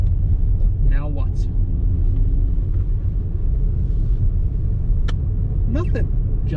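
A keyless entry car drives along with a steady, loud low engine and road rumble throughout, while people talk intermittently over it inside the cabin.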